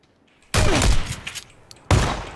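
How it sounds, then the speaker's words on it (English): Gunfire in PUBG around the town of Pochinki: two loud, dense bursts of shots, the first sustained for over a second and the second short and sharp, close and dominant with no talking. "Someone else shooting at me from this side?"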